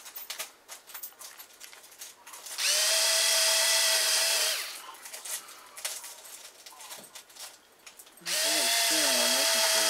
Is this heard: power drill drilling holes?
yes